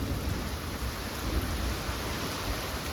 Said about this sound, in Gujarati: કડાકા ભડાકા થાય જો વરસાદ આવ્યો